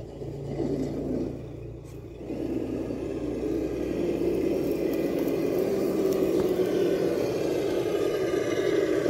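A Traxxas TRX6 RC hauler truck grinds across a pile of scraps with a steady whirring motor drone and rough rumbling, close and continuous, with no talk.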